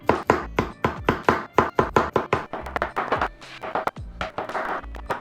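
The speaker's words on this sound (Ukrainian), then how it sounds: "Чому я нарізаю двома способами гриби?" Mushrooms are chopped with a knife on a board, a quick run of sharp, close knocks in an uneven rhythm, about two dozen strikes with short gaps between bursts.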